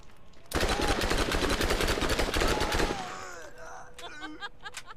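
Rapid enemy automatic gunfire from the video game Borderlands rattles loudly in a fast, steady burst for over two seconds, then fades into softer game effects and chirpy sounds.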